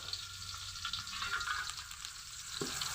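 Bay leaf, onion and garlic paste frying in hot oil for biryani, a steady close sizzle with soft stirring scrapes, no voices.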